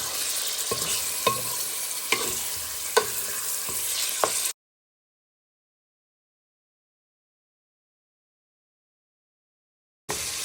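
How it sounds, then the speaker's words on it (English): Pork fries in a pan, giving a steady close sizzle broken by a few sharp clinks of stirring, then a long stretch of silence before the sizzle briefly resumes. "So as you see, our pork is nicely cooking"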